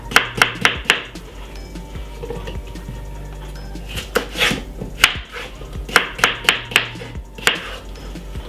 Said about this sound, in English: all you're going to do is cut up your cucumber into some pieces